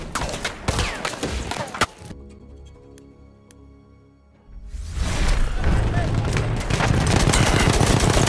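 Gunfire from a World War 1 shooter game crackles in dense bursts of shots, drops out to quiet for a couple of seconds, then returns as a loud, continuous barrage of rapid fire.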